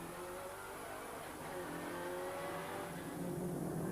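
Heavy V8 stock cars racing round the Pembrey circuit in 1996, a steady, loud engine roar with revving that holds throughout, no voices.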